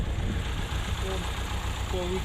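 Old YuMZ tractor engine running steadily while ploughing a field, a continuous low mechanical chug close by with faint voices over it.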